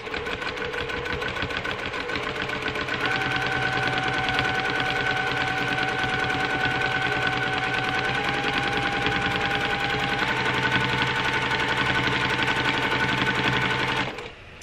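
A domestic sewing machine runs continuously at a fast, even stitching rhythm while free-motion quilting circles, a close mechanical whir that holds steady for about fourteen seconds and stops abruptly, with no talking.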